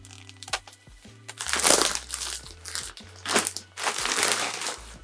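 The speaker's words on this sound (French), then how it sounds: "Je vais déballer ça puis on va aller voir si ça correspond bien au tissu imprimé." A parcel of fabric is unwrapped close by, its packaging crinkling and crunching in irregular bursts.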